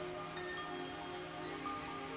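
Steady rain falls as a soft, even hiss, faint and continuous with no voices, part of the ambience of the Higurashi visual novel.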